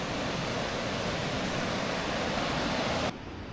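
A river rushes steadily through Muotatal in Canton Schwyz in the early morning: loud, dense, unbroken water noise close by that drops suddenly in level near the end.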